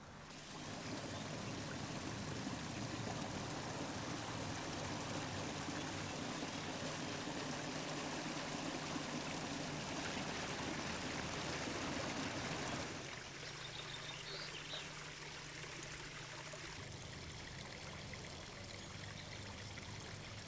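A garden stream in Devon flows steadily, a dense continuous rushing and babbling of water that softens slightly toward the end, heard up close with no voices.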